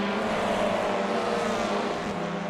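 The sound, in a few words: race cars running over the Nürburgring Carousel, iRacing video game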